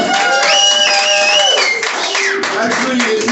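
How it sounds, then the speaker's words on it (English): An audience at a comedy show claps and applauds in a dense, continuous burst close by, while voices call out and talk over the clapping. "Accept another round of applause."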